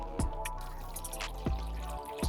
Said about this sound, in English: And I'm just gonna pour some water.